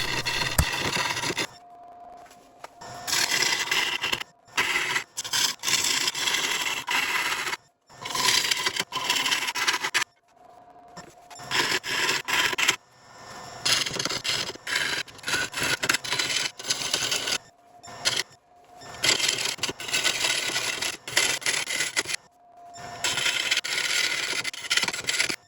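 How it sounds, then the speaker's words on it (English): A gouge hollows a burl and resin bowl spinning on a wood lathe, a loud continuous rough scraping and cutting roar that stops and restarts in repeated passes with short quiet gaps. "Because there's a lot of burl in the first part of this hollowing process, I use a gouge."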